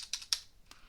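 A few quick, soft taps on a computer keyboard, three or four light clicks in under a second, close and quiet with no talk.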